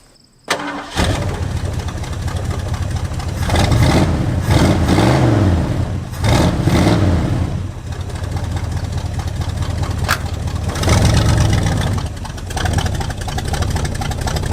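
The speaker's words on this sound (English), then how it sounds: "Let's get some oil in this and fire it up and see what she does." An old, rusty barn-find Ford Mustang that has sat for 25 years cranks and fires up, then runs loud and close with repeated revs rising and falling over a rough idle, no talking.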